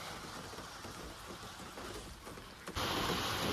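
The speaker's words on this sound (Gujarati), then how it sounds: "જોરદાર વરસાદ આવી ગયો ભાગો ભાગો" Heavy rain comes on suddenly during a rural outing, a steady broadband wash that jumps to a louder, denser downpour near the end, with no talk.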